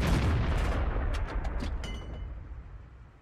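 Tank gun firing high-explosive shells in the online tank game World of Tanks, a Type 62 light tank in battle; a loud booming blast at the start with rumbling decay and a few sharp crackling reports, no talk.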